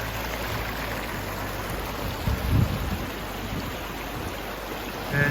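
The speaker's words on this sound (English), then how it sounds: "Here's where the other branch of the creek comes in. This one's flowing a lot better." Water rushing in a mountain creek branch near Upper Bear River Reservoir, a steady, even wash of noise with a short low splash in the middle and no voices.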